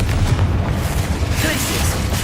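Confringo and Bombarda spells exploding in the Hogwarts Legacy video game, a dense sustained rumble of booming blasts and bursts heard loud and close, with a voice shouting spell names over the combat.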